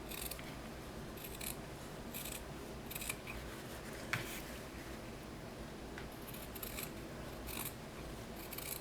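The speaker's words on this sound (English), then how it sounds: "I'm going to snip along that line" Scissors snipping fabric along a leg opening line while sewing a doll, a series of soft, quiet cuts in a steady rhythm over a hushed room background, no voices.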